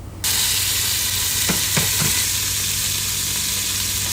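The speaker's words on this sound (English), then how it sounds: "I'm going to add some olive oil to a pot, and I'm going to start with the meat." Meat browning in olive oil in a pot for a steak and ale pie: a steady, loud sizzle that starts abruptly and runs throughout, with a few brief clicks or stirs midway.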